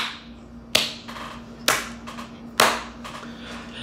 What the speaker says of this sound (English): I'm clapping for joy.